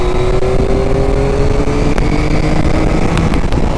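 Yamaha MT-09 V3 motorcycle with the throttle opened, a loud, dense engine roar rising steadily in pitch as it accelerates, continuous and close with no talk.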